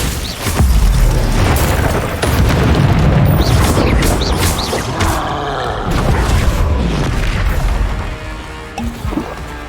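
Confringo fire spells exploding in Hogwarts Legacy combat, a loud dense run of booming blasts and crashes over about ten seconds, with whooshes and crackling debris between impacts.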